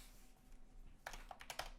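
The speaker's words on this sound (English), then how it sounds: "I need to center my keyboard when I'm going to be typing this much." Keys on a computer keyboard click in a short quick burst of typing after a quiet moment, close and fairly soft.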